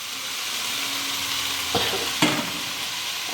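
Goroi fish fries together with tomatoes in a pan, making a constant close sizzle with a couple of sharp utensil scrapes from stirring near the end.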